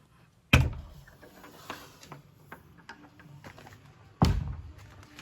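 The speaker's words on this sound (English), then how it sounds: "Let's open up this brand new board and batten door" A brand-new handmade board and batten wooden door opens inside an old church, with two loud wooden thunks at the start and near the end and lighter creaks and taps in between.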